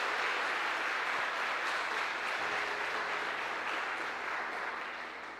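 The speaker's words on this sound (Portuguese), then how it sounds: "Aplauda Jesus, querido." Congregation clapping during a Christmas church sermon, a broad continuous wash of applause that holds steady and then fades slightly toward the end, heard from a distance.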